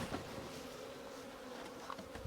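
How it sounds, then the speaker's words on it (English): Honey bees hum steadily around an open hive, a dense continuous buzz of many insects close by, faint but unbroken throughout. "Beautiful, beautiful population of bees."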